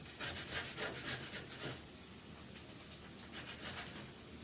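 Frozen ginger is rubbed against a grater in a steady series of rasping, scraping strokes, close and continuous with a rough, gritty texture and no talking.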